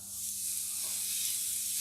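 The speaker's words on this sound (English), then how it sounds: "Nice sizzle there." A steady, soft sizzle of a salted and peppered pork tomahawk frying on a hot grill pan, a constant hiss with no talking.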